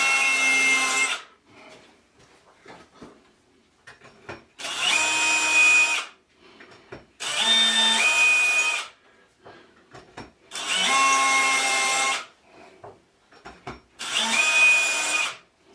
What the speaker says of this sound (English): where I need to drill these holes